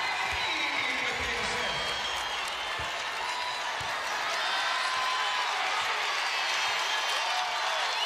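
A basketball arena crowd in Tennessee's home game against Kentucky roars with sustained cheering and applause, loud and enveloping, with a commentator talking over it.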